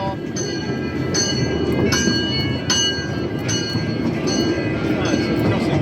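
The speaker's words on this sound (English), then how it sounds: "No, it's a crossing bell, isn't it?" A level crossing bell at a theme park rings in a regular, repeated pattern, the strikes clear against a broad rumble of background noise and crowd.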